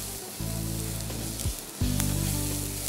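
Chopped tomatoes tipped into hot masala in a pan, a loud close sizzle that bursts up, dips briefly, then flares again and keeps frying steadily.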